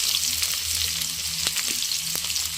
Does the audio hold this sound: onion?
yes